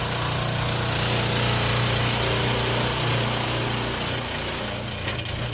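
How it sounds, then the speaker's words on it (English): An automated hockey puck launcher with spinning wheels runs steadily, a loud continuous mechanical whir and hum from the motors that persists throughout and eases slightly near the end. "which then will push pucks into the path of the spinning wheels, which will then fire the pucks towards the net"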